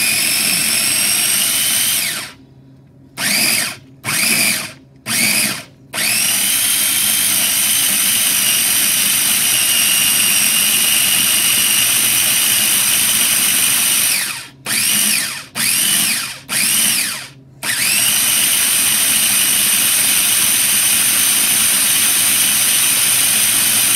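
A small electric mini chopper motor whirs loudly and steadily while chopping garlic, its high drone broken by a few quick stop-start pulses near the beginning and again partway through.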